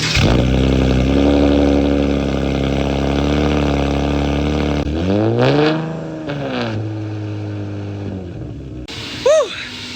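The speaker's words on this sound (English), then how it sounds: "so let's get a nice little cold start." An Infiniti G37 with a muffler cold-starts and settles into a loud, high idle, then gets a couple of quick revs that rise and fall, with a short burst of voice near the end.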